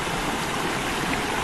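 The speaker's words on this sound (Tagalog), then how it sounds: "Tingnan mo, may mahagos na tubig." Water in a stream rushes steadily at night during hand fishing, a dense, even hiss and gurgle that stays close and loud with no pauses.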